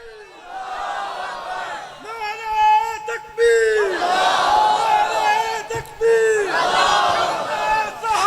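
A crowd at a religious gathering in Bakhuwala, Midh Ranjha, chants the Nara-e-Takbeer slogan in loud, sustained call-and-response waves of massed voices that rise and fall several times.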